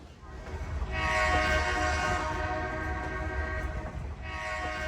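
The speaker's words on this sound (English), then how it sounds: "the engineer blowing his horn for the crossings" A loud, sustained train horn blast for road crossings over the steady rumble of a moving Great Smoky Mountains Railroad train on jointed rail, fading briefly and returning near the end.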